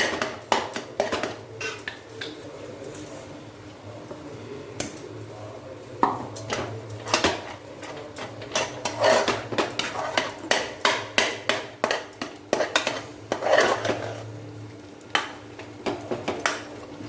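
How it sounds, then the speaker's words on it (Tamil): A spoon clatters and scrapes against a pot while black urad dal kali is stirred to keep it free of lumps, with irregular close metallic knocks and taps over a faint background hum. "கட்டி இல்லாமல் கிளறிங்க"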